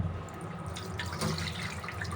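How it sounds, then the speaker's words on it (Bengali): Tap water pours into a pot of sago pearls as they are rinsed before cooking, a close, steady gush with swirling, sloshing surges and faint drips, with no voices. "সাগুগুলো রান্না করার আগে ভালো করে ধুয়ে নিতে হয়"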